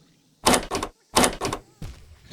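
A locked door handle is tried and rattled in two bursts of quick metallic clicks and clunks, followed by a softer third rattle, close and fairly loud with no talking.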